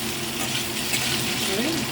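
Potatoes fry in a hot pan for dhokar dalna, a Bengali lentil-cake curry, giving a steady, close, even sizzle throughout with a faint tonal voice-like sweep late on.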